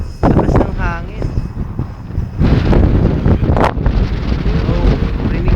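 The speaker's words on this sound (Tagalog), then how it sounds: "Lakas ng hangin." Strong wind buffeting the microphone in loud roaring gusts, with voices talking over it.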